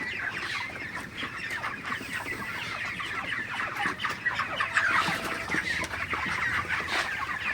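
A dense flock of 32-day-old broiler chickens clucks and chatters continuously close by, steady and busy throughout with no talking.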